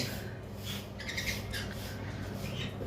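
Female sun conure parrot with bent legs squawking, a couple of harsh short calls over a steady low background noise, no talking.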